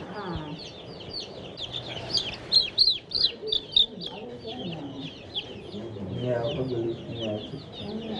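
Young chicks on a farm chirp and cheep in quick, high bursts while they are being weighed, close and busy, with a few soft handling knocks and a low background murmur.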